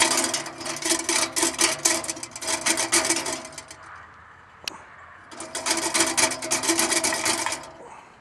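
Inside the burn tube of a wood gasifier, a grate scrapes back and forth in two long stretches of rhythmic rasping and grinding, with a short quieter gap and a single knock between them.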